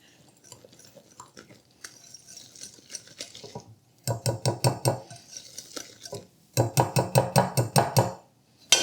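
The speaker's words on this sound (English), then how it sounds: "we're going to go ahead and give it a stir here" Apple fritter batter for cinnamon apple fritter rings being stirred in a bowl: a quiet start, then two runs of quick, rhythmic scraping strokes, each about two seconds long, close and fairly loud with no talking.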